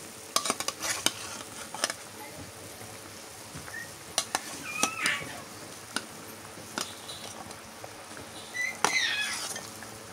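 Swarna puti fish with eggplant stirred in a sizzling pan, with the spatula scraping and clinking in irregular strokes over a steady frying hiss, close and moderately loud.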